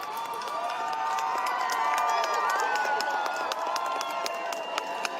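A large roadside crowd cheers and shouts steadily as King Charles passes during the Queen Elizabeth II funeral procession from Balmoral, a continuous massed roar with scattered claps.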